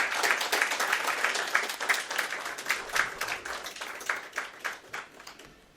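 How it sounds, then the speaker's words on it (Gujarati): A gathering at a Gita discourse session breaks into steady applause lasting several seconds, dense and fairly close, gradually thinning out at the end. "તાળીઓનો ગડગડાટ કરીએ."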